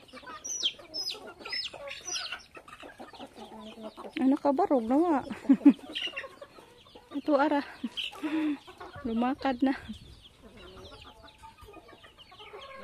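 Chickens cluck and chatter close by while a person talks intermittently over them.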